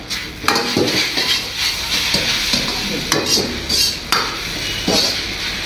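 Veg chowmein tossed and stirred in a pan: close, loud clattering scrapes and knocks of a spatula against metal over a continuous frying sizzle.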